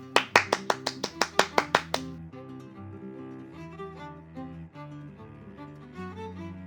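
About ten quick, evenly spaced claps ring out for the grill cook at a Buenos Aires parrilla, then stop abruptly as music with sustained tones takes over.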